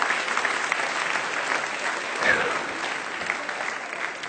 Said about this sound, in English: let's give all 3 of these people a nice round of applause